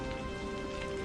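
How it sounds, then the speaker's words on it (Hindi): Steady rain pours outside a cave, a continuous dense hiss with no distinct drops or pauses. "बाहर बारिश का शोर गूंज रहा था"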